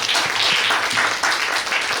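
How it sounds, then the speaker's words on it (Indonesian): Applause from a university classroom audience after a correct answer, a brief burst of moderately loud clapping from a small group, fairly close and steady throughout. "Kalau sudah tepuk tangan dulu dong"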